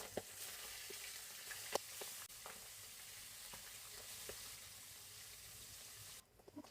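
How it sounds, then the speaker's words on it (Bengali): Tengra fish frying in hot oil in a pan; a quiet, steady sizzle with occasional soft pops and clicks that drops away near the end. "আমার তেলটা গরম হয়ে গেছে। এখন আমি মাছটা ভাজা করব।"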